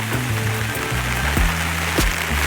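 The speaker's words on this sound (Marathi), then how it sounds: "काल पाऊस नव्हता, आज पाऊस जास्त आहे ना." Heavy monsoon rain falling outdoors in a village area, a dense continuous hiss with a few sharper drop hits, close and fairly loud with no talk.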